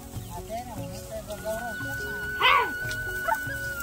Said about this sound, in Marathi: ते कुत्र्याला खायला घेतो इकडे.